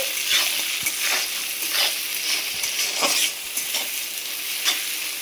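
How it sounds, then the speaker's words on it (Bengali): Vegetables lightly fried in a pan for fried rice, a constant sizzle with repeated scraping strokes of a spatula, fairly close; no talking. "সবজিগুলো একদম পুরোপুরিভাবে ভাজলে হবে না, হালকা করে ভেজে নিতে হবে।"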